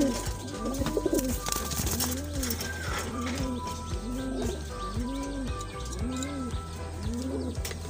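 Bagha pigeons, a breeding pair kept for flying and sale, coo in repeated rounded phrases roughly every second, steady and close, with faint chirps and background hum beneath.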